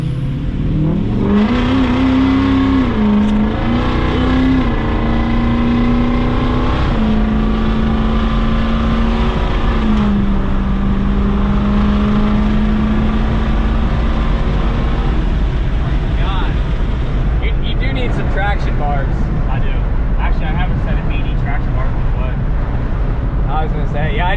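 A 6.0 Powerstroke diesel truck with a built transmission accelerates hard and hunts for traction, a loud close engine rising and wavering in pitch through repeated revs and gear changes, with people talking over it.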